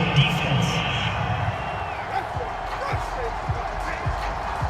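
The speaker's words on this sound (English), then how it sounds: "Well, this crowd does not like that call." A stadium crowd at a Saints vs Titans football game reacting to a roughing penalty call: a broad, steady roar of booing and noise under an announcer's commentary.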